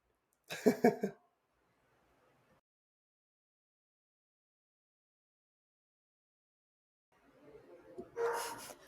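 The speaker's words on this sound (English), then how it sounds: "And my dog's going to start barking." A pet dog indoors barks in a quick burst of three or four close yaps, followed by a long silence and then another rough flurry of barking and whining near the end.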